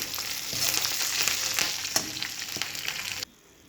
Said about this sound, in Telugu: చూడండి, కరివేపాకు ఇలా వేగింది